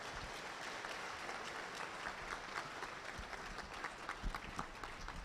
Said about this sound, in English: Another round of applause for our Vice Chancellor.